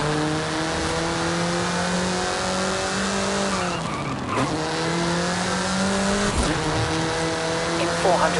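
A race car in the video game Forza Horizon 5 accelerates hard, its engine whine climbing steadily through two gear changes, loud and continuous with tire noise, under a voice talking.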